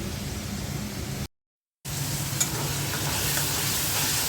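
Onion and tomato fry in a pan with a loud, steady sizzle, interrupted by a short gap of silence before the frying resumes just as strongly.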